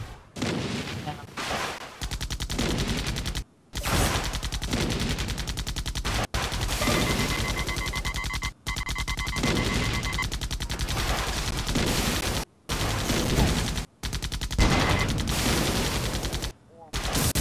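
Dense, loud rifle gunfire and rattling machine-gun bursts fill a war video game battle, running almost nonstop with a few brief silent breaks between volleys.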